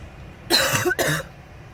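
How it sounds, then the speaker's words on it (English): Two quick, harsh coughs close together, loud and near, with quiet room tone before and after. "still got a cough, my throat's still dry"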